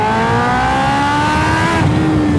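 A Kawasaki Ninja H2 motorcycle accelerates hard, its engine whine climbing steadily in pitch through a gear, then dipping briefly at a shift before pulling on, loud and close.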